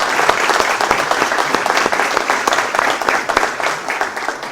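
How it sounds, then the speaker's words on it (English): A crowd applauds staff members at the inauguration of the Centro de Innovación Social, a dense, steady burst of clapping with sharp individual claps standing out throughout. "Let's give them a round of applause for the great work that they're doing."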